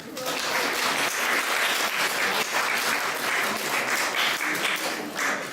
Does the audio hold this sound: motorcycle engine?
no